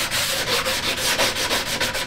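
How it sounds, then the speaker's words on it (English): Light sanding with a drywall sanding sponge across the raised tops of a wavy rustic wooden American flag, a close, steady run of rhythmic scraping strokes at about four per second, with no talking. "Some light sanding right across the top"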